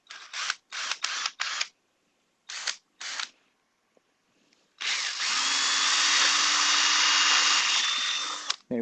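A rotary tool grinds a hole into a silicone helmet mold: several short whirring bursts at first, then a quiet gap, then one long continuous high-pitched grinding run up close.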